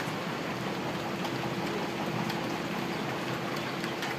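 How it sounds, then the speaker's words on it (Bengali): Heavy rain pours down during a flood, a steady, dense hiss of falling water that stays even and close throughout, with no voices. "আর এই বৃষ্টি গায়ে লাগালে ঠান্ডা লাগবে, জ্বর আসবে।"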